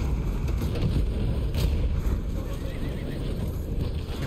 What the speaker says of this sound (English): Horse again.